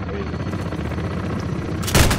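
Helicopter bombing run in Call of Duty: Modern Warfare, a rapid, rattling burst of gunfire over a constant rotor rumble, ending in a sudden loud blast of noise at the close.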